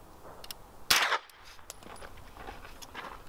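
A single suppressed rifle shot with supersonic ammunition, recorded right at the shooter's ear: one sharp, bright crack followed by a brief ringing tail, then quiet outdoor ambience.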